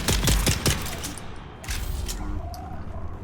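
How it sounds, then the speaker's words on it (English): Sniper fire sounds in the video game Dune Awakening: a few sharp, close cracks at the start, then a lower rumbling background with faint sounds after. "I am getting sniped by this person down here."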